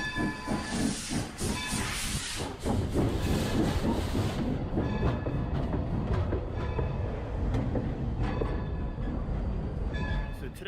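Steam locomotives at Steamtown give off loud hissing bursts of steam along with rail clatter, and whistle-like tones ring out over a busy, continuous background.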